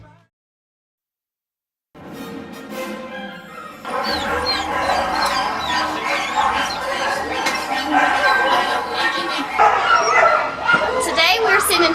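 Dogs bark and yip at a rescue runway fashion event, several sharp barks rising above a loud, busy crowd and steady talk.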